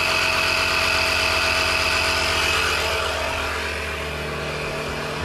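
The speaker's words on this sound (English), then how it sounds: "it's gonna make a little noise, but that's to be expected because it's a pump that's pumping air" A compact Audew portable tire inflator pump runs with a steady mechanical drone and low buzzing hum, continuous and fairly loud, with a slight drop in level near the end.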